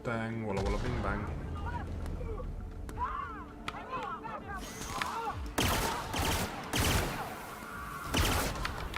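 Gunfire and battle noise in The Outer Worlds game: dense bursts of shots and blasts, growing heavier and louder in the second half, with voices mixed in.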